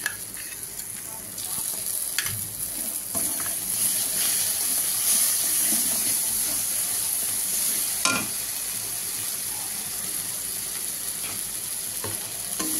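Sour yogurt going into frying spice paste for Bengali doi katla fish curry, a loud continuous sizzle and hiss with steam, punctuated by a few sharp stirring clacks.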